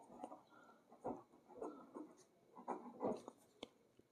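Marker or chalk writing on a board in a maths class, a series of faint scratchy strokes in uneven rhythm, quiet and close, with no speech.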